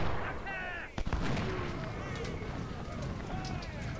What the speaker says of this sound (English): our artillery can now completely focus on the 38 North Carolina